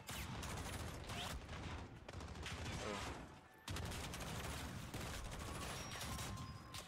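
Rapid bursts of gunfire from Call of Duty Modern Warfare, a dense, loud fusillade of shots running almost continuously with a brief lull midway, with a voice faintly under it.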